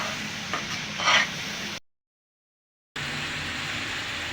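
Meni fish with turmeric and chili powder stir-frying in a pan makes a loud hiss and sizzle with a brief spatter burst; the sound drops out entirely for about a second, then the steady frying returns.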